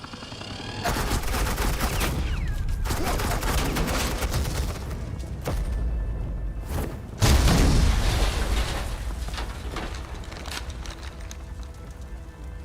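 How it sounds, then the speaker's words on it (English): Sustained suppressing gunfire in the Batman: The Enemy Within video game, a loud continuous rattle of shots running for most of the stretch with a heavier burst partway through, no voices. "Suppressing fire."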